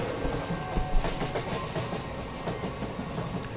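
Video game train rolling along rails, a steady rumble with rhythmic clickety-clack of wheels over track joints, continuous and fairly close.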